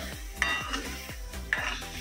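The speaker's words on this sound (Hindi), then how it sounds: "मैं उसको तड़का देता हूँ" Dal with peas is tempered, sizzling steadily in a hot pan while a utensil scrapes and clinks against it in a repeated stirring rhythm.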